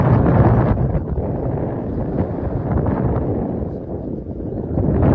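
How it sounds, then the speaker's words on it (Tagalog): Strong wind buffets the microphone on high ground in Malta in a steady, heavy roar with low rumbling gusts, continuous throughout with no voices. "Medyo malakas ng hangin."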